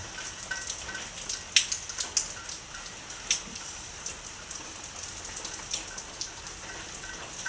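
Continuous rain pattering on a surface, with scattered louder drops ticking irregularly over a steady wash, no voices.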